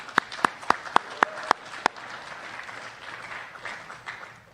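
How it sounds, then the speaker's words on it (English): A handful of sharp, evenly spaced claps ring out close by, then a broad wash of applause from a graduation ceremony audience carries on under them and fades. "Let's give a round of applause for them."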